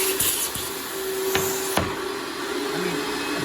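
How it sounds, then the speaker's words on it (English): A suction vacuum table running steadily in a workshop, a constant loud motor hum and airy hiss with a few sharp clicks and knocks near the start, no talking. "I've got my vacuum tube underneath, and you're gonna see how good this works."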